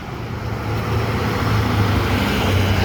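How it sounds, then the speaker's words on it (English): Heavy trucks pass along a road during a West Virginia hunting trip, a steady loud low rumble of traffic that swells and holds throughout, with no voices. "big loud trucks driving by"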